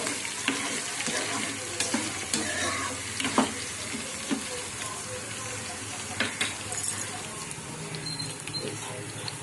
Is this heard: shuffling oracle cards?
no